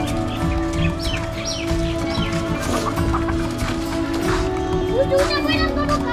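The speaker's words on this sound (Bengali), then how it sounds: "এই যে মুরগি একটা বের হয়ে গেছে।" Hens clucking and squawking in a yard as a loose chicken is chased back into its pen, several bird calls scattered over steady background noise with people talking throughout.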